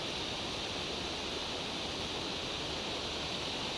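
A Himalayan waterfall in the Valley of Flowers, near Ghangaria, gives off a constant broadband rush of falling water. It is steady and unbroken, with no voices over it.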